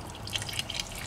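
Fluid drains from a CFMOTO CFORCE 800 ATV onto its skid plate in a faint, brief patter of drips and trickling liquid.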